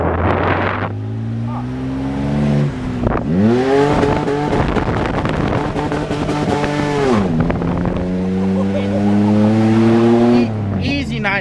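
A Camaro race car, a nine-second drag car, revs and accelerates hard with rising and falling engine pitch through gear changes, loud and close, while people talk over it.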